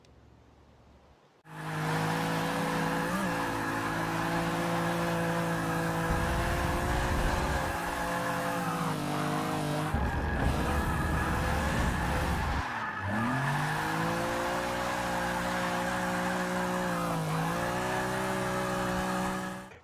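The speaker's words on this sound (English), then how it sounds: "Here's more drifting in Forza Motorsport, this time in a BMW." A BMW drifts in the racing game Forza Motorsport: a loud, sustained engine roar with continuous tire squeal and sliding, revs rising and dipping through the slide, with no voices.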